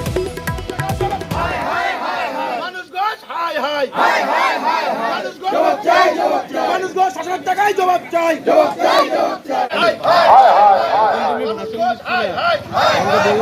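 Local residents protest in Raiganj beside burning tyres, a dense crowd of raised, overlapping shouts and chants surging loudly and continuously, with a sharp burst of yelling at the start.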